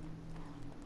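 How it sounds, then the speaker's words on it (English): Horses clip-clopping in The Witcher 3, a faint, muffled patter of hooves under a steady low rumble, very brief and without speech. "Oh, they're just the horses."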